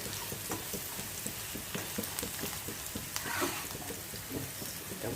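Chili flakes sizzle in hot oil in a pan while frying for fried rice, a steady close crackle with occasional sharper pops and stirring clicks, and no voices.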